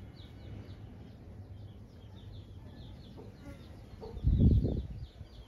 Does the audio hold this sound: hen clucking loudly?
yes